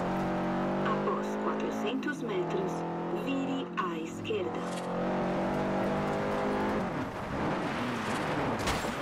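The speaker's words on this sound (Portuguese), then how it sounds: "Nossa, fazer drift difícil." A car drifting in Forza Horizon, its engine revving steadily and tires squealing through most of the stretch, loud and close, while someone talks over it.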